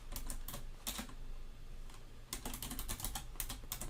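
Fingers type on a computer keyboard in quick bursts of crisp clicking keystrokes, pausing briefly in the middle before another rapid run, close and clear with no talking.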